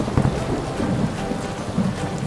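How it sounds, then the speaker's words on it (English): Steady rain with low rumbling thunder rolling underneath, a continuous wash of sound with a few heavier swells. "Thunder!"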